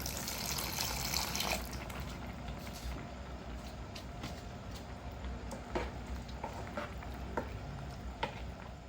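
Water pours and gushes steadily into a cooking pot of bamboo shoots, a continuous splashing wash with scattered small clinks, fairly quiet and close.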